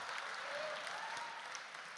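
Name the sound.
audience clapping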